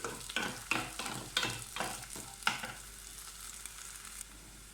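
Onion and coconut pieces fry golden brown in oil, a low sizzle punctuated by a series of rhythmic spatula scrapes and taps in the first half, then fading to a softer steady frying hiss.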